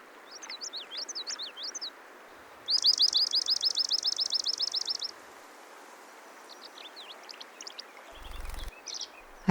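Song of a swamp sparrow among nesting marsh birds: a rapid even trill of about a dozen repeated notes, clear and moderately near, with other brief chirps and tweets before and after over a steady outdoor hiss.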